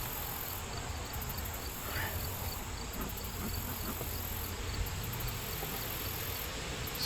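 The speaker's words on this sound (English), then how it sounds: "it does sound like there's lots of bees" Honey bees buzzing inside a hive during a hot-weather inspection, a dense, steady hum with faint higher insect tones layered over it, continuous and fairly close.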